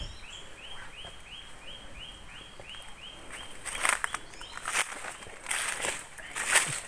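Birds calling unseen in a quiet teak forest wildlife sanctuary, a repeated series of thin rising chirps at moderate distance, followed by closer rustling steps and crackles.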